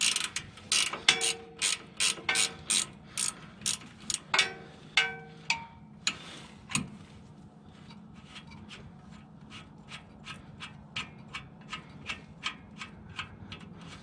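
Ratchet wrench working a strut bolt loose on a 2003 Tacoma 4x2 during a shock replacement, with a steady run of crisp, close clicks that start fast and strong, pause briefly, then continue at an even, quieter pace.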